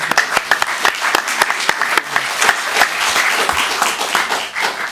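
Audience members at a city council meeting break into applause, a lively burst of many individual claps close by, continuing steadily through the short stretch.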